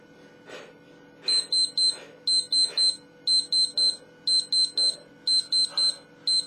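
Electronic workout-timer beeps in quick bursts of three or four high tones, repeating steadily about once a second over faint background noise.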